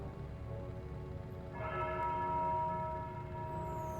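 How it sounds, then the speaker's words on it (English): A church bell tolls once in the video game Foolish Mortals, a resonant ringing strike that lingers and decays over a low ambient hum. "The tolling of the bell."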